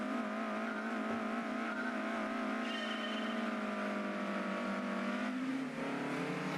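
Race cars driving on Tahiti Road in Gran Turismo 2, a steady whining engine drone that climbs and holds in pitch, then drops briefly near the end as the car shifts, heard alone and fairly faint.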